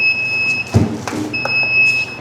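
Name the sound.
timer buzzer on edible tea cup making machine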